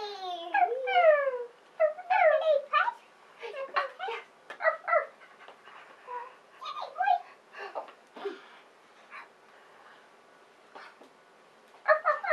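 A puppy gives high, thin whimpers and squeaky yelps in short bursts with brief pauses, close to the microphone in a quiet room.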